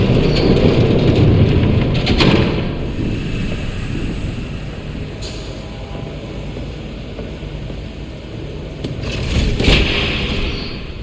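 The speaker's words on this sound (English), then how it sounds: "There's a train coming." A train rumbles past in the Batman: The Telltale Series video game, a loud broad roar that swells and fades with gusty, wind-like noise and brief bright screeches near the start and end.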